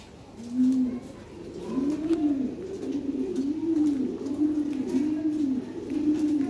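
Lahori pigeons coo in a repeated rolling rhythm, about seven or eight close, clear coos in a row over faint background noise.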